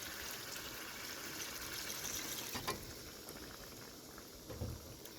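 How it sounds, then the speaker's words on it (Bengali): Milk is poured into chicken frying with spices in a pan, producing a soft, continuous bubbling hiss with a couple of brief clinks and splashes, fairly quiet and without talk. "এখন অ্যাড করছি দুধ"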